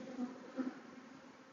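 Honeybees buzz at an opened hive during early-year frame work, a soft continuous drone with a couple of brief louder swells as individual bees pass close.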